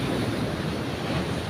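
Strong sea waves surge around a fishing boat at dusk off the coast, a loud, continuous roar mixed with buffeting wind on the microphone and no talking.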